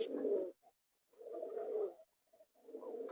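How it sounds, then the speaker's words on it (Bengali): Pigeons kept as pets coo in low, soft, rolling phrases, three bursts separated by brief pauses, close by and with no talk over them. "পায়রাগুলো পুরো টোটালি ছড়িয়ে পড়েছে একটু ডাকাডাকি"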